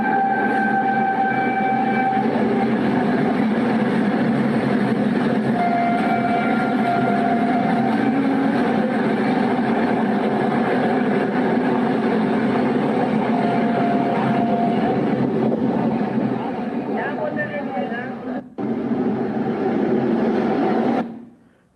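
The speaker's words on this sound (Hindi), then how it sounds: "डबल इंजन के साथ भागती हुई ग्रीन कॉरिडोर की ये रेल" A double-engine train on a green corridor runs past loudly and continuously, with a rumbling roar, wheel clatter and tonal horn-like whines over about twenty seconds before cutting off abruptly.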